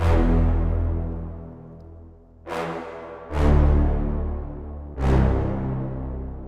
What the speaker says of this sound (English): I layered this brass sound with a nice bass sound from Serum.